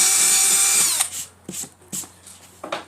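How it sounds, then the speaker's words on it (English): Power drill boring holes in MDF board for speaker adapters, a steady loud whine for the first second, then several short separate bursts as the bit bites into the board, each spaced apart with quiet gaps. "Just go ahead and get your drill bit, come right in your line."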